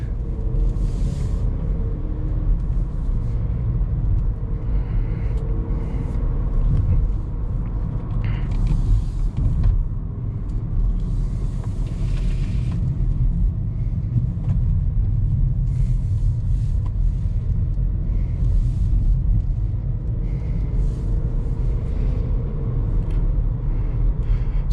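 A 2022 Haval Jolion on the road, its engine and tyre rumble a steady, loud low drone throughout from inside the cabin, with faint occasional creaks and passing noise.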